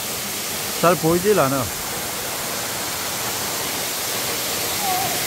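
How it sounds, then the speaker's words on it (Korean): Suok Waterfall, a 20 m fall onto rock, gives a steady, broad roaring hiss throughout, with a person speaking briefly over it. "이렇게 폭포는 저기 있고"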